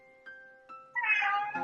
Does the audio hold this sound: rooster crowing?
no